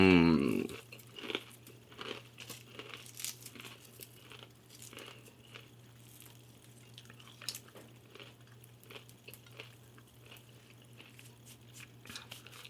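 Crumbled bacon being eaten, with crinkling and crunchy chewing in short bursts close by, over a steady low hum after a brief loud rustle at the start.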